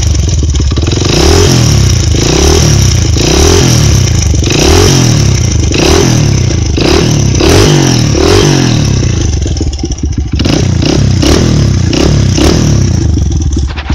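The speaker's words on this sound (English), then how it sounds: "Engine has that little tick from the timing chain being a little loose." A Honda CRF100 dirt bike engine with a loose timing chain runs loud and close, revving repeatedly in rhythmic surges with mechanical ticking and clatter throughout.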